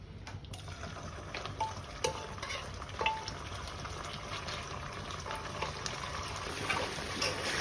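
Beef pieces go into hot oil in a cooking pan, giving a steady, dense sizzle with occasional light clicks and clatter from stirring, with no talk.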